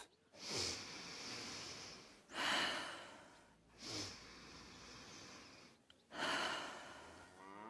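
In Kingdom Come: Deliverance II, a character with a sore, injured chest takes four deep, close breaths, each a loud rushing inhale or exhale separated by short pauses.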